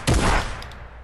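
A shotgun in a video game fires one loud blast that decays over about half a second, followed by faint clicks.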